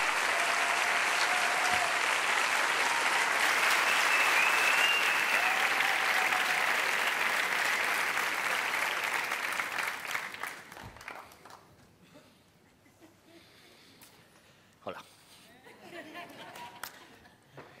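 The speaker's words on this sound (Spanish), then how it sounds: "Un fuerte aplauso" Loud, dense audience applause fills a hall at a Naukas Murcia science outreach event, sustained for about ten seconds before thinning into scattered claps and fading out.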